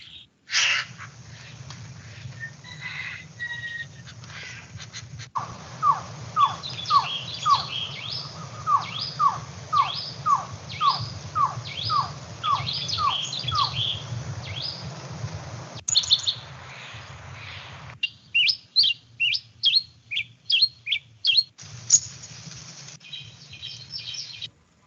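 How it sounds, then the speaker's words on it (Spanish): Recorded birdsong played back, with repeated descending chirp phrases in a steady run, then quicker sharp call notes, all over a low steady hum. "ya podíamos reproducir los cantos de las especies de aves que nosotros habíamos registrado"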